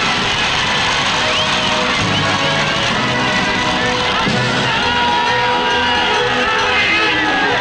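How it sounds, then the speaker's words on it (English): A dense football crowd at Goodison Park, Liverpool, for Everton against Fulham, a loud continuous roar of many voices with shouts and whoops rising out of the mass. "We went along to Goodison Park, Liverpool, to join the crowds converging for Everton's opener against Fulham"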